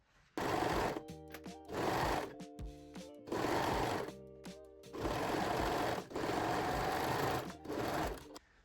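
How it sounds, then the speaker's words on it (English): A sewing machine stitching a seam on a pair of panties, several loud whirring bursts of rapid needle stitching separated by short pauses, close and alone with no talk. "Okay, so we can sew this seam now."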